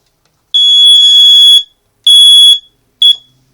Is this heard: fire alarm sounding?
yes